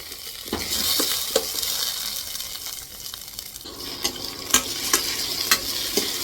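Onions, tomatoes and curry leaves sizzle in a pan on an induction cooktop for radish sambar, a steady hiss broken by scraping stirs and a few sharp clinks of a spoon against the pan.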